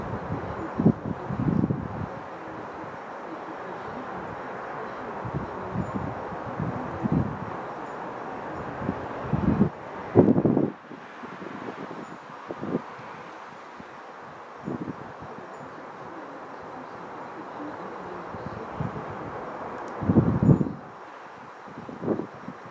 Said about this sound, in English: Quite a strong wind blowing.